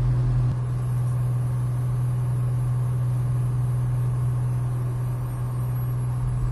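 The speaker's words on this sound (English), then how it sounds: "As noise in the cockpit increases" Aircraft cockpit noise during takeoff: a steady, loud, low engine drone with broadband rush holds constant and close, with no speech.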